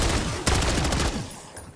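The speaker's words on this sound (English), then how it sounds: "Treyarch has been using the exact same flashbang sound effect for decades now" Flashbang grenade from a Treyarch Call of Duty game detonating in a sudden sharp burst, followed by a dense, ringing wash that slowly fades over the next second or so.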